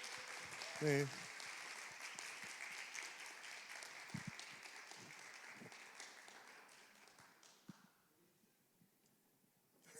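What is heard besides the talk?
audience applause in church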